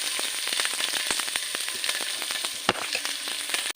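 Onions sizzle and crackle steadily in a hot pan for a masala curry, a close, continuous frying hiss with sharp pops and no voices.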